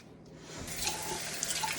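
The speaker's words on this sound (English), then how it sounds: "Put the tube on and squirt it real hard through the tube." Hot soapy water squirted hard from a syringe through a feeding tube, a short gushing, splashing spray that builds after a quiet start, with small drips and spatters toward the end.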